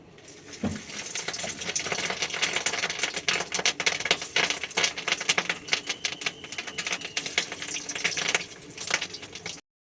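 Fish oil and roe coated in gram flour fry in hot oil, giving a dense, continuous crackle and spitting sizzle, close and fairly loud, for about ten seconds without talk.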